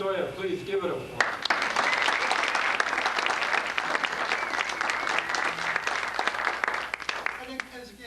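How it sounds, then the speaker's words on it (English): Indoor audience at a Gold Rush songs and stories performance breaks into sustained applause after a voice introduces a performer, dense clapping holding steady before thinning out. "Please give it a applause."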